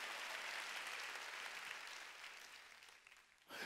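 Church congregation applauding during a Sunday worship service, a dense steady wash of many hands clapping that fades slightly before a brief swell at the end.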